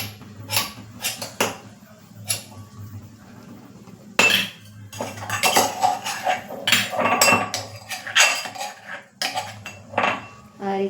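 A metal spoon stirs garlic chutney into a potato and green chori bean curry in a pan, giving close, repeated clinks and scrapes against the metal in an irregular stirring rhythm over a low steady hum, with no talking.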